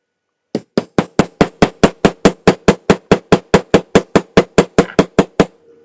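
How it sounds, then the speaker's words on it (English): Hammer striking metal jewelry components, about twenty even, sharp blows in a steady rapid rhythm, loud and close, with nothing else audible. "I feel like it's been a minute since I've done some hammering"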